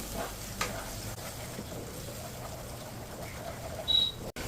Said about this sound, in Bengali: এই মশলাটাকে ভালো করে কষিয়ে নিতে হবে।